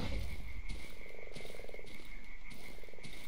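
Frogs croak in a rhythmic chorus through the dark woodland of the horror game Darkwood, layered over a steady high insect-like drone and low ambient rumble, with no voices.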